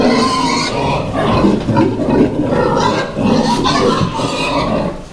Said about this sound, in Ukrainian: а це наші свинки